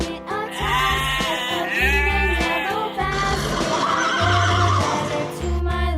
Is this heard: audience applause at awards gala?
no